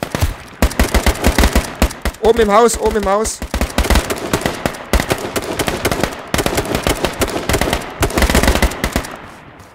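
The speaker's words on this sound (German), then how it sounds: "Schüsse!" Gunfire in the survival shooter H1Z1, rapid bursts of automatic shots cracking loud and close in clustered volleys, with a man calling out urgently between them.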